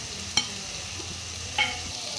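Chicken Schezwan fried rice briefly sautéed with black pepper in a pan, a low steady sizzle with two distinct clinks of a utensil against the pan, close and short, no voices.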